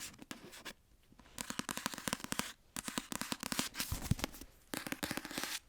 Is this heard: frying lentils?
no